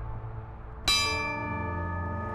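Single strike of a church bell tolled at a protest vigil outside an execution site: a sharp clang followed by a long, ringing, slowly fading hum over faint background noise.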